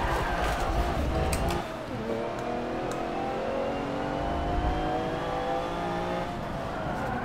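A race car engine in Forza Motorsport 7 revs hard and steadily with a loud, sustained whine that climbs in pitch, accompanied by tyre and road noise throughout.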